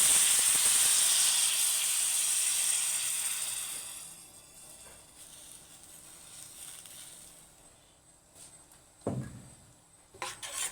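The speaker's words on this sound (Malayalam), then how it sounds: "ഇനി നമ്മൾ പിഴിഞ്ഞ് വെച്ചിരിക്കുന്ന പുളി വെള്ളം ഒഴിക്കാൻ പോവുകയാണ്." Tamarind water is poured into a hot chutney curry, setting off a loud steamy hiss that fades over several seconds, followed by a few light pot and utensil knocks.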